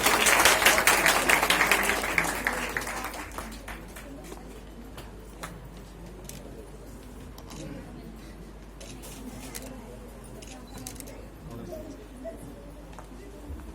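Audience applause at an award ceremony, loudest in the first few seconds and then fading to scattered claps under a low murmur of the crowd.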